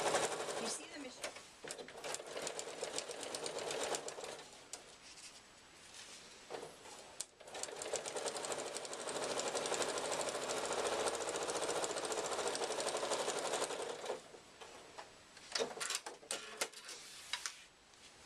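A sewing machine runs nearly continuously while stitching binding around an iPad case, a steady mechanical whir with a few short breaks, moderately quiet and close.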